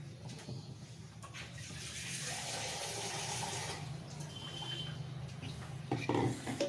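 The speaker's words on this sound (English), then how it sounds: "I'll put in about 3 cups of water into this mixie and take out all the masala from that" About three cups of water are poured into a mixer jar to rinse out ground masala for a chicken curry, a soft steady gushing that swells and fades, with a clink of the jar near the end.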